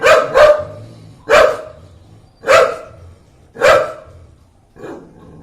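A pet dog named Beetu barks in five loud, close, evenly spaced sharp barks, some doubled, followed by a softer final yip; no talk.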